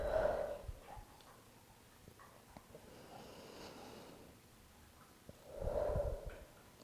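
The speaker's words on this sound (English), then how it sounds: "Try and find a natural rhythm of inhaling through the nose, exhaling from the mouth." Slow breathing during a mobility and stretching session, with two audible nasal inhales or exhales at the start and end framing a quieter stretch of soft breath, close and alone with no talking.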